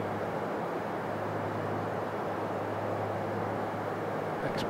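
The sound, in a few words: aircraft exterior wind noise in X-Plane flight simulator video game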